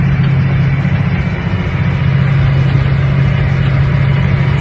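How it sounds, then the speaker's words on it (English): A tractor pulling an eight-furrow on-land hitch plow through red clover runs with a steady, loud, low engine drone, constant and close without pauses. "Samuel's running the tractor"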